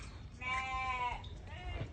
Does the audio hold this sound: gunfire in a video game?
no